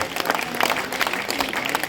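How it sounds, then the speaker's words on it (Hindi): Applause from an audience at a Martyrs' Day patriotic poetry recital, a dense burst of clapping heard close and fairly loud, steady throughout the short moment. "उस महापुरुष का तालियों की गड़गड़ाहट से स्वागत कीजिए, अभिनंदन कीजिए"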